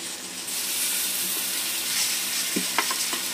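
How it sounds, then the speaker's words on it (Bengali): Onion-ginger paste and tomato sizzle steadily in a pan while being cooked down for an aloo dum with mutton fat, a continuous close hiss broken by a few sharp scraping stirs near the end. "এবার ভালো করে একটু আমি কষে নেবো এটা মশলাটা"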